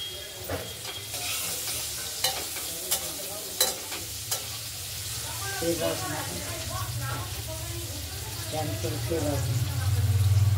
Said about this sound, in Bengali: হলুদ দিয়ে ভেজে নিচ্ছি। আলুটা ভাজা হোক